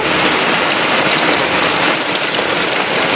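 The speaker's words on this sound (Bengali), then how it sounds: "দেখেন কি পরিমাণে বৃষ্টি হয়েছে আর কি পরিমাণে পানি পড়তেছে।" A heavy downpour at a house, with rainwater pouring and streaming down, forms a loud, unbroken wash of drumming drops and running water close at hand, steady throughout with no voices.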